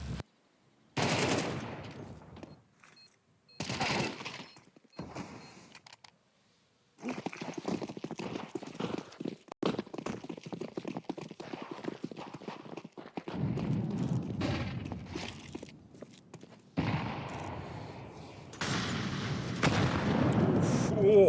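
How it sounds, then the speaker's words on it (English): Grenade blasts and gunfire from a Counter-Strike 2 match at a StarLadder Budapest Major esports event, bursts of shots and impacts recurring in loud busy stretches with short gaps, mixed under crowd and game audio. "That is a meaty nade."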